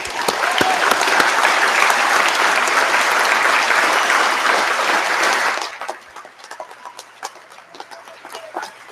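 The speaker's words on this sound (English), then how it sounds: "May I ask for a round of applause for all our graduates today." Graduates at a university convocation ceremony receive a sustained round of applause from a large audience, loud and dense for about five seconds, then fading to a few scattered claps.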